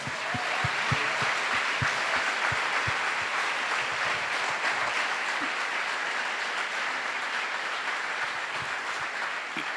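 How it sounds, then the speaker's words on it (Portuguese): A church congregation at a 40th-anniversary service in Porto Alegre bursts into dense applause, with a few low, rhythmic thumps early on before the clapping settles into a steady, full-room roar. "Vamos aplaudir o nosso Senhor."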